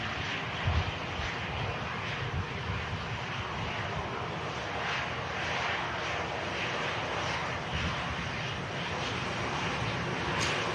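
Airliner taking off from Manchester Airport, a steady, broad engine roar sustained throughout at moderate distance, with a few faint thumps and no voices.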